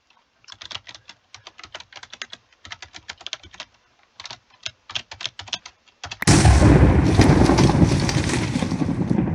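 Rapid bursts of computer keyboard typing in quick clattering runs with short pauses, then a sudden loud blast of noise takes over.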